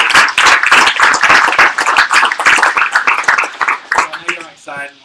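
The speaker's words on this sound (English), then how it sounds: "You should give yourselves a round of applause" An indoor audience at a civic hacking team demo event claps in a dense burst of applause that thins out toward the end, close and loud, with a voice talking briefly over the last moments.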